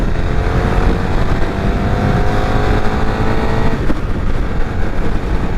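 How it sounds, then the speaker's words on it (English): A KTM 1290 Super Duke R Evo motorcycle engine roars loud and close in a sustained, droning run with a slight shift near the end, mixed with wind and road noise. "They don't want me revving the bike out really hard"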